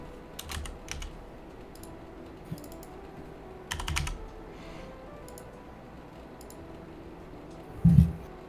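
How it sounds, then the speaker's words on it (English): Keys on a computer keyboard tap in short scattered bursts during an online game tournament, quiet clicks separated by pauses, with a louder thump near the end. "Now he's typing it."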